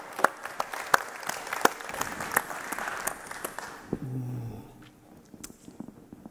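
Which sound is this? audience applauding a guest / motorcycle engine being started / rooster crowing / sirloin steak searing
audience applauding a guest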